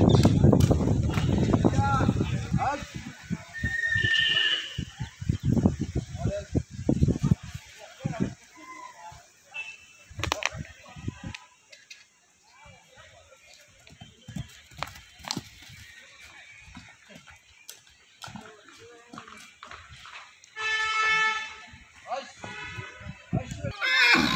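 A Marwari horse at Mount Abu, Rajasthan, gives a loud whinny, and its hooves clop irregularly nearby as it moves about, with people talking on and off over the sounds.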